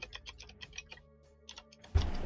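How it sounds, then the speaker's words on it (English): Quick bursts of keystrokes come from a computer keyboard during a Dungeons & Dragons session, nearby, ending in a louder thump and rustle. "Rapidly typing."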